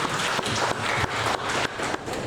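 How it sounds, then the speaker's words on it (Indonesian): Dense audience applause at a university faculty talk event, a loud continuous wash of many hands clapping with a few sharper surges, no speech over it. "Tepuk tangan lagi."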